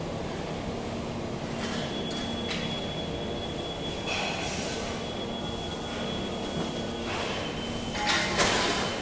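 An aluminum profile packing machine runs while wrapping profiles in PE film, a steady mechanical hum with a faint tonal whine and occasional clunks and rattles, moderately loud, with no speech.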